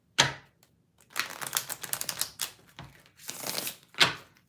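Tarot cards being shuffled in quick riffling bursts, several separate rounds with short pauses between, close and fairly quiet.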